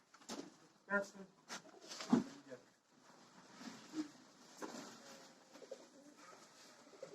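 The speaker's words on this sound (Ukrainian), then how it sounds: "голуби." Low pigeon coos drift through a busy outdoor village farmyard scene, with scattered rustles and voices talking faintly in the background.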